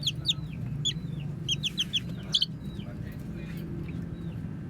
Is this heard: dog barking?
no